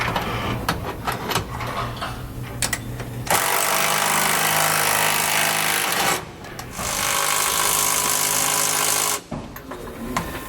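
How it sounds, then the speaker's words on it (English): A 9/16 wrench and socket tighten four bolts and nuts on SumoSprings Maxim helper springs fitted to a 2018 Jayco Precept motorhome, heard as two long, loud bursts of dense mechanical rattling after scattered clanks, with no talking. "Now I'm going to use a 9/16 wrench and socket to tighten up the 4 bolts and nuts"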